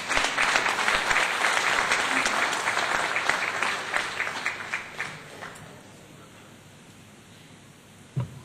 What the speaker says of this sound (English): Let's give him a big round of applause as he comes up.